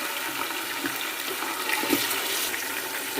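Raw chicken, a full kilo, going into a pan of lightly fried garlic gives a steady hissing sizzle throughout, with a brief louder crackle partway through and no talking.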